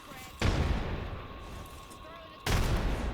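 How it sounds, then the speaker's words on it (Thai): Two heavy grenade blasts boom out in the Apex Legends video game, the first striking sharply and then decaying into a rumble before a second strong blast hits, while players talk over the gameplay. "โดนโดนระเบิดเต็ม แต่ไม่ตาย"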